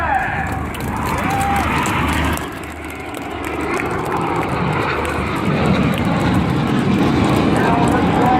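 Red Arrows aerobatic jets of the synchro pair rush past at a seaside airshow in Sunderland, a loud broad roar that dips briefly then swells again, with an announcer talking over it.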